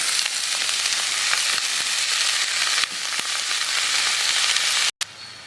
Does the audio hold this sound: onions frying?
yes